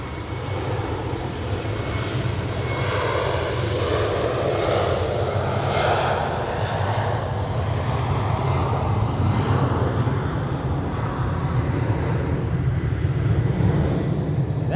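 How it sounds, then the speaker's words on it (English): An Austrian Airlines Embraer jet takes off from Zurich Airport for Vienna, its engines producing a loud, sustained roar with a deep rumble and a broad rushing noise, close and steady throughout. "now it's time for the Austrian Airlines Embraer off to Vienna"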